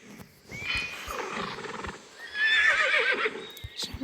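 A horse in a video game whinnies twice, with shrill, wavering neighs, while clopping hooves and game noises run underneath and a short chime rings at the end.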